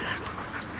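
A dog panting in quick, soft breaths, close by and fairly quiet, a short burst of steady rhythmic huffing.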